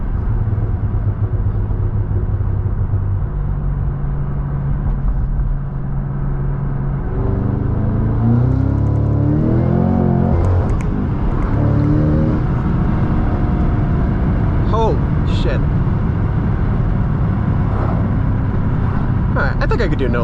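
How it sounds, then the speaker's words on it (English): A 2022 Cadillac CT5-V Blackwing with a 6-speed manual rumbles loudly from inside the cabin, its exhaust crackling and burbling over a sustained engine drone, with a rev swell midway. "I also love the pops and burbles that come out the back end. They just go on and on."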